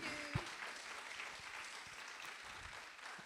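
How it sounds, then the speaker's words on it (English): Steady, faint applause from an audience at a women entrepreneurs seminar in Dallas, a continuous wash of clapping heard from a distance with no voices over it. "Give one round of applause."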